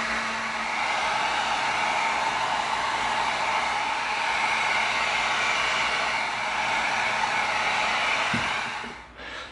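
A heat gun blows on EVA foam to shrink and tighten it, a loud, even whooshing roar held for about nine seconds before it cuts off abruptly.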